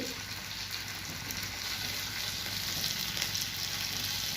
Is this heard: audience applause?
no